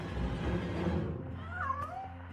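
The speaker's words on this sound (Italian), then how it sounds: "Eh, è un gatto." A cat meowing in The Long Reach video game: a low ambient rumble under a single drawn-out meow with a rising then falling pitch near the end, moderately close and fairly quiet.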